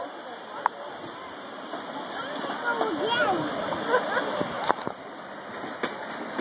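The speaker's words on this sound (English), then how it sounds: "Oh, look at the waterfalls, Brendan." Waterfalls in Dalat, Vietnam give off a steady broadband rush that runs through the whole stretch, partly masked by people talking nearby.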